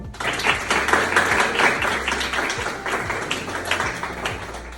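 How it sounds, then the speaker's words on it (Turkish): A crowd at a Turkish sports event claps continuously for several seconds, a dense, even patter of many hands without voices on top. "alkışlayalım."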